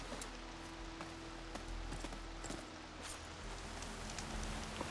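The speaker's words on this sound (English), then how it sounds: "No escaping this rain." Steady rain falling in the video game Horizon Forbidden West, a constant dense patter with scattered droplet ticks and a low rumble, no voices.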